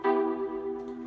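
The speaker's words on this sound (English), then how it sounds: "It's a preset from Silent," A Sylenth synth stab from the Disco Polis preset, its filter cutoff tweaked: one sustained, bright, buzzy chord held for about a second and fading gently, alone.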